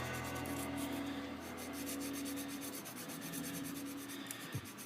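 Soft, steady rubbing of sandpaper by hand, a continuous gentle scratching with a faint hum underneath.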